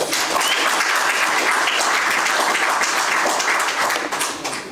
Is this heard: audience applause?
yes